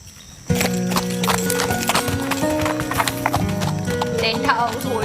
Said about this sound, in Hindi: तुम्हें घोड़ा चलाना नहीं आता ना?